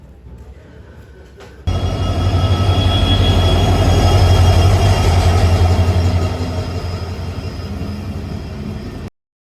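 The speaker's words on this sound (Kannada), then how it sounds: "ಇದೇ ನಾವು ಹೋಗೋಂಥ ಟ್ರೈನು, ಗೊಮ್ಮಟೇಶ್ವರ ಎಕ್ಸ್ಪ್ರೆಸ್." Gommateshwara Express passenger train at Yeshwantpur railway station, a loud, steady rumble of rolling wagons with rail screech that starts abruptly and runs continuously, close by, with no talk.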